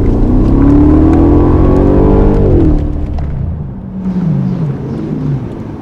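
A Mercedes S500 V8 engine revs up as the car pulls away, a loud rising drone that climbs in pitch for about three seconds, then eases into a quieter lower hum that swells briefly again near the end.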